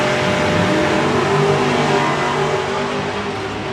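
Drag race car at a summer nationals event roaring down the track, a loud, sustained engine blast that stays dense and steady before easing slightly at the end.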